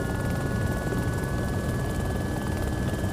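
A helicopter engine in ARMA 2 drones steadily with a rapid rotor thrum and a constant high whine, loud and unbroken throughout.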